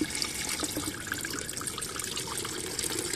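Gasoline pours and splashes out of the crankcase of a John Deere LA105 lawn tractor, a steady close trickling and splattering of liquid that runs continuously without talk.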